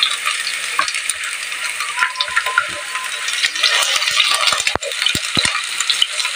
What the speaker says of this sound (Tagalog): Magigisa na po tayo.